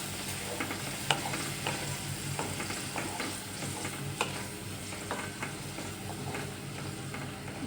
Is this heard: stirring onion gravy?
yes